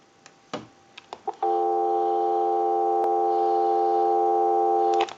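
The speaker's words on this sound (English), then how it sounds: "We'll give you some dial tone." Steady dial tone from a Western Electric 2554 wall telephone handset, a continuous loud hum that starts after a few faint clicks and holds for about four seconds before cutting off.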